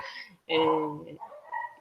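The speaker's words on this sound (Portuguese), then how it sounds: "Só um pouquinho que minhas cachorras latiram aqui." Pet dogs barking indoors during an online talk: a couple of short yelping barks close by, with a voice speaking just before and around them.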